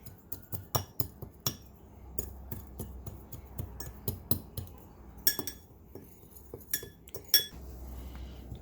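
Metal spoon clinking against a bowl while Mexican oregano and chili powder are stirred together, a run of sharp close taps and scrapes in an irregular rhythm, with no voices.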